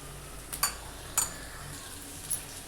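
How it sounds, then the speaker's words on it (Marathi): A metal spoon scrapes and clinks in a pan as patodi is sautéed in a homemade spice masala, three sharp clinks over a faint low sizzle, with no talking. "त्याला छानपैकी परतून घ्यायचं आहे मसाल्यामध्ये."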